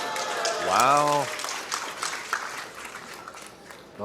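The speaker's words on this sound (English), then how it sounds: "the crowd gives him a round of applause because it went" Crowd applause at a pool match during a team world championship final, a broad wash of clapping under a commentator's voice, with a brief tonal voice sweep early and the clapping thinning out toward the end.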